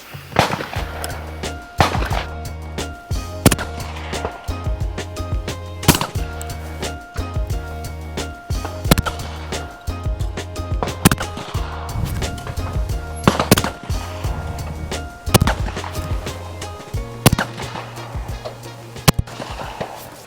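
A Beretta DT11 shotgun fires at clay targets outdoors in strong wind, sharp loud reports scattered at irregular intervals, some in quick pairs, over a constant rushing wind noise.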